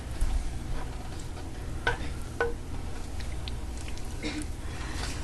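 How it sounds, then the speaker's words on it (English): Velveeta queso dip being gently and continuously stirred in a pan, a soft steady scraping with faint bubbling and a few brighter clicks of the utensil, close and low in level. "you can see I'm just gently stirring this the whole time"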